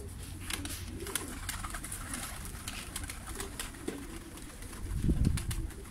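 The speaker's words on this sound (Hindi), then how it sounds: "कबूतर" Pigeons in a new net cage coo steadily close by, with soft wing flaps and shuffling, and a louder burst of flapping near the end.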